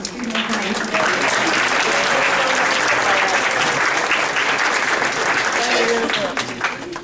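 A meeting audience breaks into sustained applause, loud, continuous clapping that swells, holds for several seconds and then tapers off, with a few voices speaking faintly underneath.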